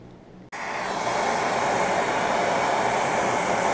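A torch fires up with a sudden pop and then settles into a steady, loud hissing roar, heating a metal fitting for brazing a radiator hose connection on a Cummins 4BT swap into a Chevy K1500.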